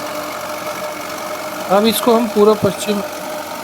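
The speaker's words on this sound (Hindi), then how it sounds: "अब इस हिस्से में हम रोटावेटर से जुताई कर रहे हैं।" A tractor pulling a rotavator while tilling a field, its engine droning steadily throughout, close and fairly loud, with someone speaking over it.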